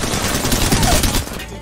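Rapid automatic gunfire in the Apex Legends shooter game, a dense burst of loud cracking shots packed together, fading somewhat toward the end, with no talk over it.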